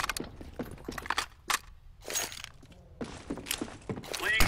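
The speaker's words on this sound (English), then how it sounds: "Grenade out." A grenade is thrown in Counter-Strike: Global Offensive, producing a series of sharp thunks and clattering impacts spread across a few seconds, some close and loud, others softer, with brief gaps of quiet between them.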